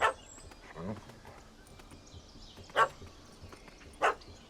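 A dog in The Witcher 3 video game gives a few short, scattered barks at moderate distance over a quiet ambient bed, with a faint voice at the start.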